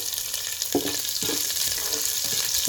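Ginger-garlic paste and green chillies hissing in hot oil in a pan, a loud close sizzle with a few spatula stirs scraping through it, no talking.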